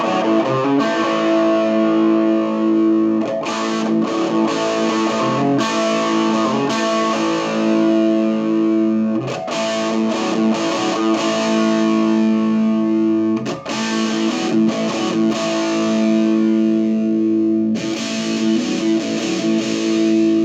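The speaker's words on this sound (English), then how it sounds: "it has a way better distortion than that Fender" Heavily distorted electric guitar chords ring out loud through a yard-sale amplifier, played in sustained bursts with brief gaps between phrases.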